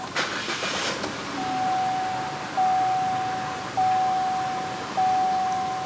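A 2013 Chevrolet Spin LTZ car engine cranks and catches, followed by a steady idle with a repeating chime sounding at regular intervals, close by and moderately loud with no talk.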